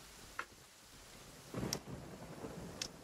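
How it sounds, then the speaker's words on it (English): Rain and thunder from the video game Genshin Impact, with faint, distant rumbles and a soft, steady patter of rain at low volume, punctuated by a few brief crackles. "Also, it's raining."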